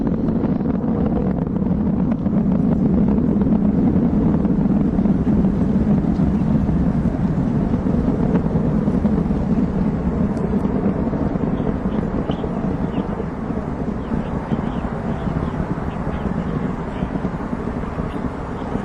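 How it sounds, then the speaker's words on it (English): A rocket carrying the New Horizons spacecraft roars during launch, a continuous heavy low rumble heard from a distance with wind buffeting the microphone. "sending the New Horizons spacecraft on its way to the very edge of our solar system."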